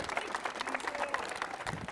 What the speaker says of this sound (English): applause for putting this together